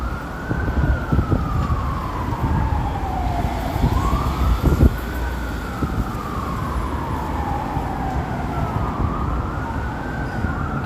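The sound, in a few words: emergency vehicle sirens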